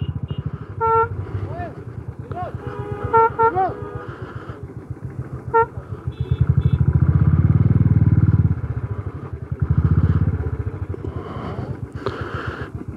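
Motorcycles idle and move about at the high Khardung La mountain pass in Ladakh, engines chugging close by with bursts of revving, scattered horn toots and clatter, while people talk nearby.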